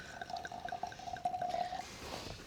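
Wynns Coonawarra Estate Cabernet Sauvignon 2008 red wine poured into a glass: a soft, steady liquid stream for about two seconds, then it stops, quiet and close.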